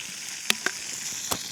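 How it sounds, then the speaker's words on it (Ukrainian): Food sizzles with a steady, quiet hiss on a grill set up on snow on a frozen lake, and a few sharp pops and crackles break through. "Зараз буде там смажиться на снігу."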